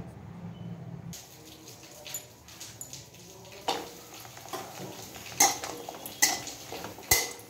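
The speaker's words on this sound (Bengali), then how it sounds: "আগে ডালের বড়িটা ভেজে নেব" Dal bori lentil nuggets fry in oil in a wok with a low background sizzle, while a utensil clinks and scrapes against the metal pan several times, the sharp taps growing louder toward the end.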